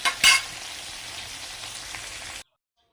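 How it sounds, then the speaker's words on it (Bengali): Sea chela fish fry in a pan, giving a steady close crackling sizzle that opens with a short louder burst and then cuts off abruptly. "প্রথমবারেরটা আমি একটু ভেজে নিচ্ছি মাছগুলো"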